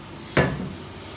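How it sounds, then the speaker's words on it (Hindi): A lid set down on a cooking pot of aloo gosht with potatoes, one sharp close knock followed by a brief fading ring over a quiet background. "अब मैं आंच कर दूँगी आस्ता और इसके ऊपर दे दूँगी ढक्कन,"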